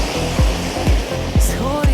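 Water rushes steadily at the Krushuna waterfalls, a loud, close hiss and roar with a few brief pulsing swells over about two seconds.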